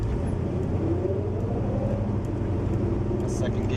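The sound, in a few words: 1974 Chevy Nova accelerating through the gears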